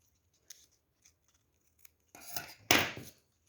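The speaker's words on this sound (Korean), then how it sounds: "여기 끝부분은 이렇게 가위로 살짝 이렇게 올려줄게요" Scissors scrape and rasp along the end of rolled paper, curling it in a few short scratchy strokes followed by two louder brushing sweeps, close and alone.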